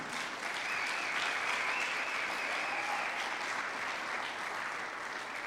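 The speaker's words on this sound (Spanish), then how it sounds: "Dele un aplauso al Señor, seguro que sí." A church congregation applauding, a broad, even wash of many hands clapping at once, sustained and moderately distant for the whole stretch.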